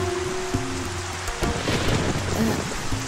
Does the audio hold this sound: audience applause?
no